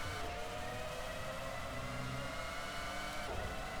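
A Formula One car in F1 2005 on PS2 at the Hungarian Grand Prix accelerates with a continuous high engine whine, fairly faint and steady throughout.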